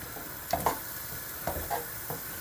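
Quiet sizzle of butter melting in a frying pan with a few soft scrapes and taps as it is stirred around, no talking.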